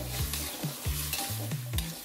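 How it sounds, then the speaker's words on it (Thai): Thai eggplant being stir-fried in a hot pan, with a busy sizzle and repeated scraping strokes of the spatula coming in an uneven rhythm, close and fairly loud, with no talking. "ผัดมะเขือเปราะให้สุกเลยครับ"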